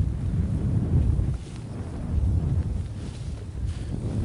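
Gusty wind on Table Rock Lake during a fishing outing from a boat, a low rumbling roar buffeting the microphone in uneven surges, with no talk.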